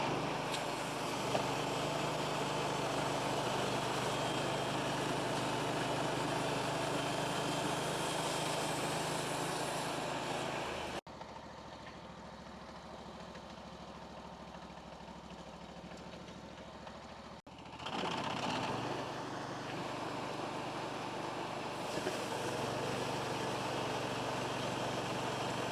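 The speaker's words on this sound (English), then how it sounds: "So what I'm going to do is push with the excavator." An excavator engine runs steadily while pushing a long hardwood log toward a sawmill, a mid-pitched diesel drone that drops quieter for several seconds before rising again, heard without any talking.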